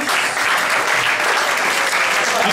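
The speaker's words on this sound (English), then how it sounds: "Big round of applause for David, please." A dense burst of audience applause at an event, loud and steady from start to finish with no talk over it.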